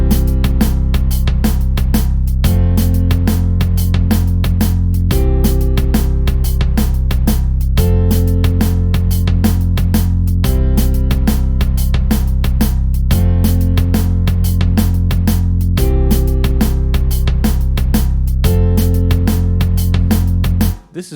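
A synthesized keys part plays a repeating chord pattern within a music arrangement, with sustained chords changing every couple of seconds over a steady, loud, continuous texture for about twenty seconds.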